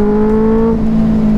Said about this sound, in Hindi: हाईवे पर भी ट्रैफिक गाइस